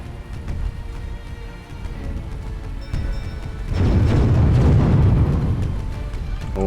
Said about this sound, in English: Oh, my cannons are falling a wee bit short.